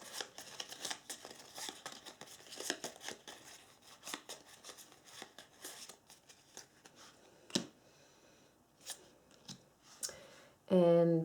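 Game cards from the Doom second edition board game being riffle-shuffled on a table in repeated quick bursts of flicking and snapping, close and fairly loud, ending with a short louder rattle.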